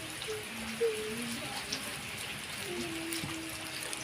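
Heavy rain falls on a village in a continuous, even hiss of droplets striking surfaces. Faint voices and tones sit in the background.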